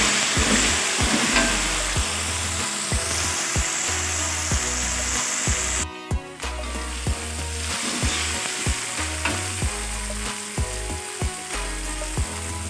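Tripe stir-frying with bay leaves and crushed galangal, a steady sizzle and hiss under loud rhythmic background music with repeating tonal beats.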